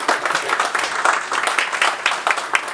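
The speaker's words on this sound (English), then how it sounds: "Give him a little clap." A small audience at a fintech talk claps briefly, a light, uneven patter of a modest number of hands with distinct individual claps, close and moderately loud.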